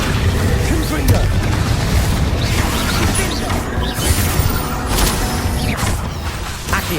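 Bombarda spell blasts in Hogwarts Legacy combat: repeated booming bursts and whooshes packed into a dense, loud, continuous battle din, with voices calling out among them.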